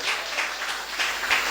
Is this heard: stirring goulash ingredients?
no